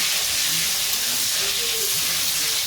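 Tempering of chopped tomato, green chilli and whole garam masala frying in mustard oil and ghee, a loud continuous hiss and sizzle close up, with faint murmurs underneath.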